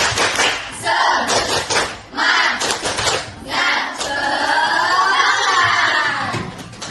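A classroom of children does a rhythmic spirit clap, with bursts of clapping and shouted chanting in uneven waves, ending in a sustained group shout.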